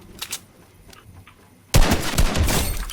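Assault rifle gunfire in a video game: quiet faint background sounds, then a sudden loud burst of rapid automatic fire that keeps going to the end.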